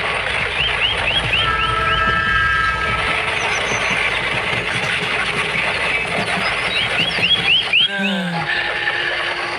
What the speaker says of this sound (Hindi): दूर से ट्रेन के हॉर्न की आवाज सुनाई देती है